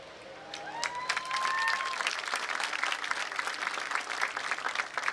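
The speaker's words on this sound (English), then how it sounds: "Let's hear some more clapping." Sustained applause from a graduation ceremony audience, dense steady clapping that swells early and holds at a moderate level throughout, with a few faint tonal sweeps in the background.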